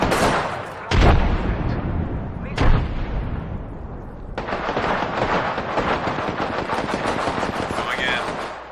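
Gunfire in Apex Legends, with two sharp, loud shots about two seconds apart followed by sustained rapid firing. A voice talks beneath the shooting.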